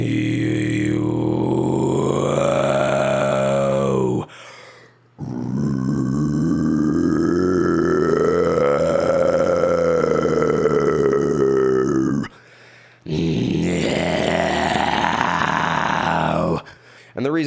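Long, gravelly false vocal cord rumbles from the throat, sustained for several seconds each with brief pauses between, loud and close, pitch sliding up and down.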